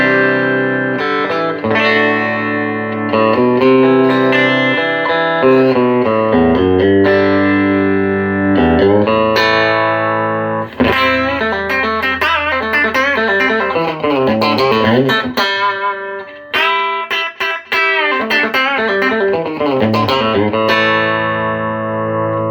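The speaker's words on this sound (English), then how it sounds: "It's a 10-inch cab, and it has a Jensen as well," Electric guitar played through an amp into a 10-inch cabinet with a rear-mounted Jensen P10R speaker, sustained chords and melodic lines ringing continuously and loud with light effects, no talking.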